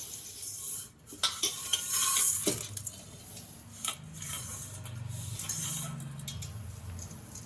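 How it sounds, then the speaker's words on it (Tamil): Raw rice is stirred by hand in a vessel while preparing idli batter, giving gritty swishing and scraping with a few sharper clinks, close and fairly quiet, with no speech. "இதை வந்து இப்படியே கலந்து விட்டுக்கலாம்"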